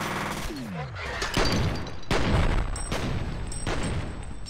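Gunfire from the F.E.A.R. shooter game comes as a dense, continuous barrage of bursts and booming impacts, loud and close, with several heavier hits standing out from the steady shooting.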